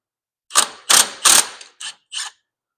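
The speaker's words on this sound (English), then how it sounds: "Just going to use a adjustable here to hold the head of the bolt and crack it loose." Tools working a bolt loose on the upper control arm of a 2010 Ford Ranger 4x4, with an adjustable wrench holding the bolt head; five loud, close bursts of ratcheting clicks, three longer and two shorter.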